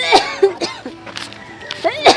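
A child coughs in short, sharp bursts, several of them spread through the moment, close by and mixed in with voices talking at home.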